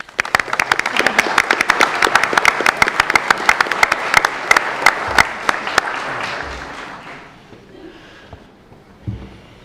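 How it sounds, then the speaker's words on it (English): Applause from an audience at a district commission meeting: a loud round of clapping with sharp individual claps standing out, fading over the last few seconds into scattered claps and room murmur. "I think they deserve another round of applause."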